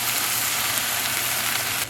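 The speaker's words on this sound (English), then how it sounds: "Now I'm going to add in 2/3 of a cup of beef broth" Beef broth poured into a pan of sautéing onions sets off a loud, dense, steady sizzle that stays close and constant before easing slightly at the very end.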